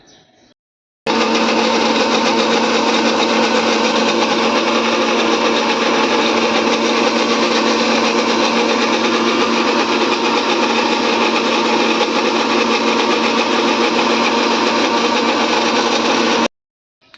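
A kitchen mixer grinder whirs at a steady high speed, grinding coconut into a fine paste, a loud, constant motor whine that starts abruptly after a second and cuts off near the end.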